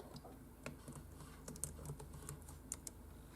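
Soft, quiet keystrokes on a computer keyboard, a short run of scattered taps with a few sharper clicks, heard alone without talking.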